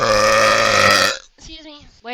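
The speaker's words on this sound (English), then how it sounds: "that was an impressive burp" A long, loud human burp with a rich buzzing tone ends abruptly, followed by a brief pause and a short spoken remark.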